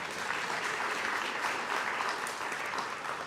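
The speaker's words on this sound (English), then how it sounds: "please give them a round of applause as well" A panel audience at a museum event on hip-hop and basketball applauds the organisers with steady, even clapping that fills the room evenly and holds for several seconds.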